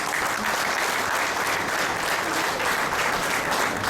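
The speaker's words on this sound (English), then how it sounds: "Please give a big round of applause." A dense, even roar of applause from a large crowd at an engineering graduation ceremony, many hands clapping continuously and loudly throughout with no voices rising above it.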